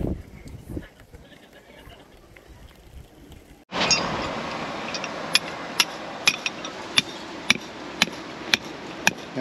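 Sharp hammer blows strike a peg in a steady run of about eight evenly spaced knocks over a constant outdoor hiss.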